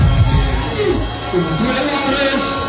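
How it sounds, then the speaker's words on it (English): Crowd at a Nigerian political rally cheers and applauds for Atiku Abubakar, a loud, dense roar of shouts and voices with clapping mixed in, sustained throughout. "A round of applause to Atiku Abubakar."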